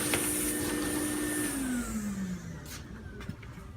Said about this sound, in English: after you get the holes routed, you want to suck them out good with a vacuum